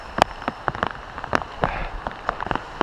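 Rain falls on a river during salmon fishing, with scattered, sharp droplet taps in an uneven patter close by.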